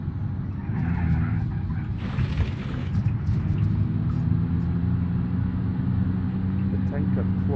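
Nissan Qashqai mod engine in BeamNG.drive, a steady low droning rumble building with boost toward 3,000 rpm, continuous and fairly loud with someone talking over it.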